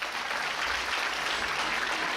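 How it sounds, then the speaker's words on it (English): Crowd at a college E-Summit event claps in a sustained, even round of applause welcoming a guest onto the stage. "So we have Professor Bijon Mishra sir with a huge round of applause"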